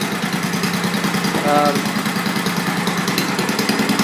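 The cast iron Kohler engine of a vintage Troy-Bilt Horse tiller runs steadily at a low, even idle, a continuous chugging hum throughout, close by.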